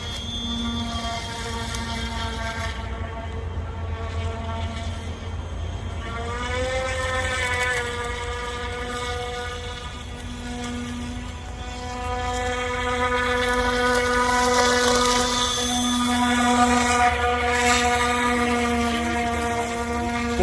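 A DIY RC rescue airboat's motor and propeller drone steadily on water, pitch climbing as the throttle opens and settling into a loud buzzing whine, with no talk over it.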